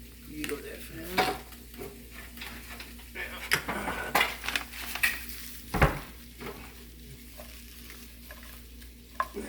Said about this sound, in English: That's what we should be hearing. Some sizzle.